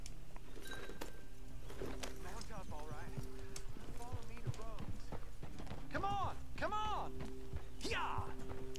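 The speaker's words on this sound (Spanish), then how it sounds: "quiere que montemos a caballo" Horse hooves clip-clop steadily during a ride in Red Dead Redemption 2, with an occasional whinny, while someone speaks Spanish throughout and harmonic game sounds sit in the background.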